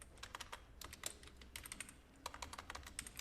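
Text is typed on a computer keyboard in quick bursts of crisp clicking keystrokes, close and fairly quiet, with short pauses between runs.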